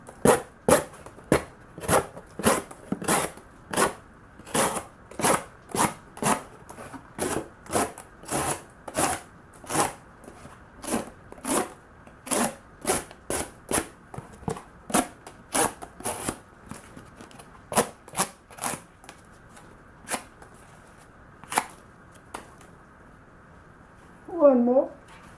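Knife slicing through cardboard in a long series of sharp, close cuts at an uneven rhythm with short gaps, plus a brief squeaky sound near the end.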